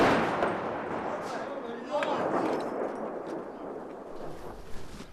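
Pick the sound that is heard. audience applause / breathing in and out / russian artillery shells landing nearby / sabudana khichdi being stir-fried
russian artillery shells landing nearby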